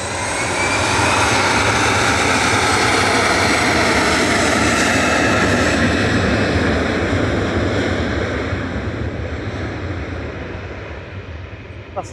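Jet2 Airbus A321 jet, registration G-HLYF, roaring at Manchester Airport, a loud, broad, sustained engine rush that fills the whole span and slowly fades toward the end.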